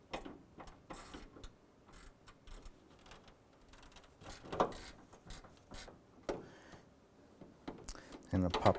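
A socket wrench on an extension ratchets a bolt out of a 2004-2012 Chevrolet Colorado grille, giving quiet, uneven clicking bursts with faint metallic clinks, under and between a man's speech.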